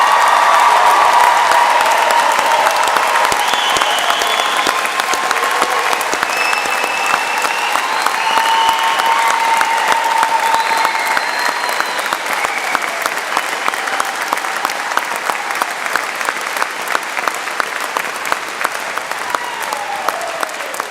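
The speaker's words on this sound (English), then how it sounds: "I think we deserve an even bigger round of applause for everyone who's graduating." Large graduation audience for art, design and media students applauding loudly and continuously, with a few cheers and whoops rising above the sustained clapping for about twenty seconds.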